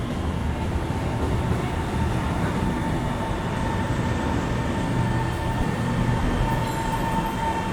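A Shanghai Metro Line 1 train pulls into the station with a steady, heavy rumble and drone that holds at a constant loudness throughout, with faint high squeals near the end.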